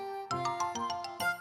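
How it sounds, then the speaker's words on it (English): A doorbell chimes with a run of bright ding-dong tones over about a second and a half, each strike ringing out and overlapping the next, clear and close in a cartoon home setting. "Just then the doorbell rang."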